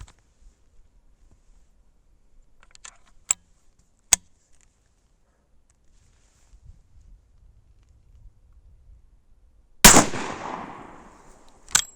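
A single loud, sharp rifle shot from an Ottoman-made Martini-Henry MkI cracks out near the end and is followed by a decaying echo. Faint clicks and light handling noises from the rifle come before it in near silence.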